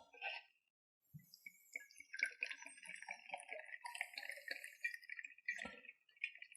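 Vodka is poured into a glass for a Bloody Mary: a faint, close trickle of liquid running for several seconds, with soft drips and a small clink at the start.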